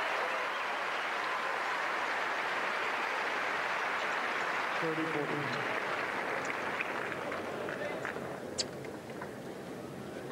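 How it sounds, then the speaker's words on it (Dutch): A tennis crowd at the 2003 Miami Open quarterfinal between Kim Clijsters and Jelena Dokic applauds in a steady, broad wash of clapping that fades slowly, with a brief voice partway through. "Applaus van de Kleisters"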